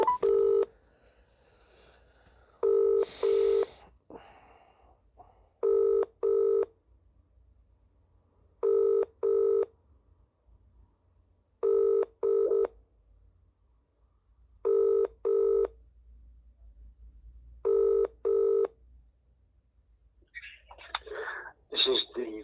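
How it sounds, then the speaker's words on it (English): An outgoing phone call rings through a handset, with evenly spaced double bursts repeating about every three seconds, clear and steady against a quiet line before a voice starts at the end. "Ringing you, Graeme Kenna."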